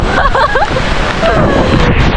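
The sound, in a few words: strong wind and big sea waves at beach during storm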